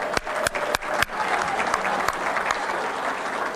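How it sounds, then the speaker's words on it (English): An audience at a charity tasting and auction at a golf club applauds Joe Kirky, with several sharp nearby claps at first, then a steady wash of crowd clapping. "How about a round of applause for Joe Kirky?"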